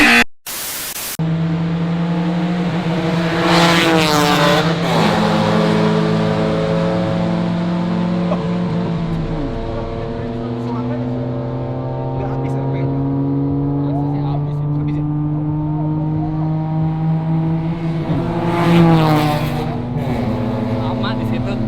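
A Toyota GR race car engine at the Mandalika circuit drones steadily from inside the cabin, its harmonic pitch rising and falling through gear changes, while people talk over it.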